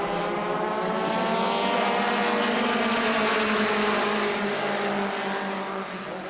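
Race cars at a New Smyrna family fun night accelerate hard out of turn four, a loud, dense roar of many engines sweeping past in one sustained, rising pack.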